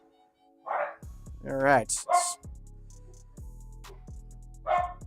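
Dogs bark at home after a doorbell, several sharp yips and barks in bursts with a whimper between, close and loud, while someone speaks briefly.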